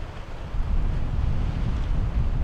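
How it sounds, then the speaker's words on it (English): Strong wind roars across the microphone around an anchored sailboat as waves wash and slap nearby, a loud, continuous rushing with low buffeting gusts and no talking. "this is just crazy, this wind"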